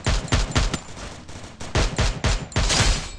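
Rapid bursts of gunfire in the Garena Free Fire battle royale game, with several loud volleys and single shots clustered close together over a few seconds.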